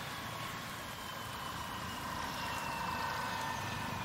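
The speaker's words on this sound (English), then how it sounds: "We'll just park the helicopter just over here." In the Hold Your Own video game, a helicopter engine winds down after a landing, heard as a faint, steady whining drone that continues throughout without other sounds.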